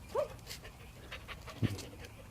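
A dog pants quietly during a jump-training session, with a faint whine near the start and a short low grunt later, over a soft room hiss.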